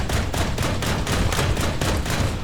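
Rapid, continuous bursts of anti-aircraft cannon fire from a German Flakpanzer IV Ostwind in War Thunder realistic battles, loud and close, with dense rhythmic shots running throughout.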